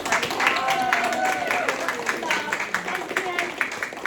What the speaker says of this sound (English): can we give Eileen a big round of applause for everything she's done for our centre